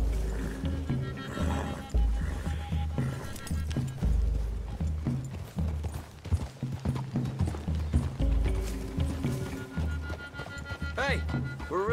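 Horse hooves in the video game Red Dead Redemption 2 clip-clop steadily over ground, with rustling movement and some voices talking over the top.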